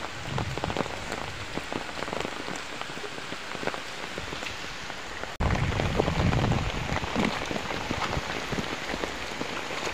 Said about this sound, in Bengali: এত পরিমাণে বৃষ্টি